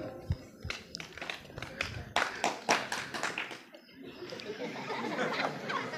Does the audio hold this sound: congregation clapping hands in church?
yes